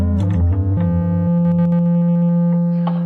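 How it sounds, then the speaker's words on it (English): An Arturia Minibrute synthesizer plays a sine-wave sub-oscillator tone through a TC Electronic Tube Pilot pedal with a little reverb. A few pitches step quickly, then the tone settles into one pure, sustained, loud note with faint knob-twiddling warble. "Set to a sine wave because we can do that with the Minibrute."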